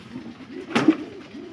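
Pet pigeons give a low, rolling coo that repeats several times close by, with a brief rustle in the middle.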